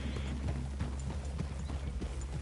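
Horse hooves clip-clop steadily in Red Dead Redemption 2, a rhythmic stream of close hoofbeats over a dense, continuous background rumble.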